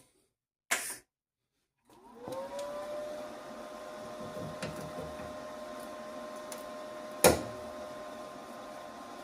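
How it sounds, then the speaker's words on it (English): A MIG welder is switched on during rear scuttle and boot channel repairs on a Ford Zodiac MKIV, a click followed by a low, steady electrical hum that runs quietly, with a sharp knock near the end. "so I'll put my MIG on"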